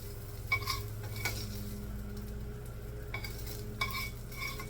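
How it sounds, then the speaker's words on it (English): Turkey sausage lifted out of a pan with light oil: a soft steady sizzle underneath with a handful of sharp utensil scrapes and clinks against the pan, close and fairly quiet. "I'm going to just remove my sausage"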